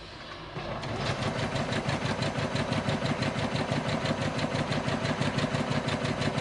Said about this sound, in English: And I'm sewing at 1/2 an inch seam allowance to about here.